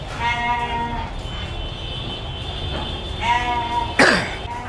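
Goats on a rooftop farm in Dhaka bleat close by in two drawn-out, wavering calls separated by a pause, followed by a sharp, brief noise, over a steady background hum.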